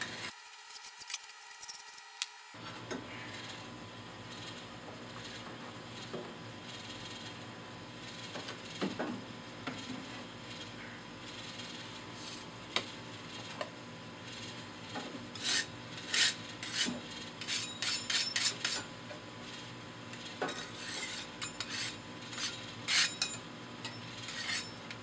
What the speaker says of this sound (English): Just take your little putty knife and scrape down your fire bricks a little bit